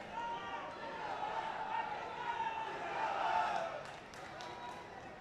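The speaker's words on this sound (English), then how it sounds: "Oh, the crowd, some of them getting very excited, but clearly no touch inside the circle." Spectators at a hockey semi-final between Australia and Pakistan at the Sultan of Johor Cup rise into a broad, excited roar that swells toward the middle and eases off, beneath continuous commentary.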